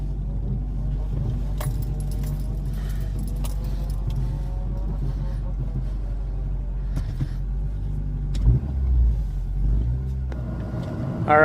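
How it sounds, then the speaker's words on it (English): A 2009 Honda Civic Si cruising casually in fourth gear, with a steady low engine and road rumble throughout, keys jangling in the cabin, and a brief rise in engine noise near the end. "Right now I'm just driving casual, you know, nothing crazy. I'm on 4th gear."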